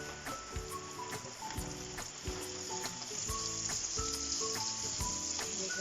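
Shrimp sizzling in a pan over browned onion and garlic for garlic butter shrimp, a dense steady crackle of frying with faint scattered pops and clicks throughout, close and unbroken, no voices.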